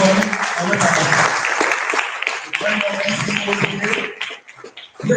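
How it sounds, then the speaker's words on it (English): A conference audience applauds to welcome a professor to the stage; the clapping runs moderately loud and mixes with voices and some tonal background sound, thinning slightly toward the end. "So please let us welcome with a warm applause for his presentation today, Professor Sonny Awefada."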